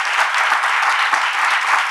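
Audience applause for Pastor Tchoumou at a church gathering, steady dense clapping filling the room for the full stretch, loud and even with no voices on top.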